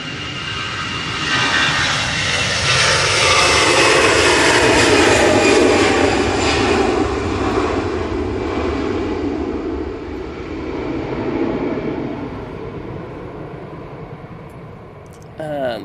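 An EasyJet jet airliner bound for Malaga takes off from a windy Manchester Airport, its engine roar building loudly over the first few seconds, holding strong, then slowly fading into the distance.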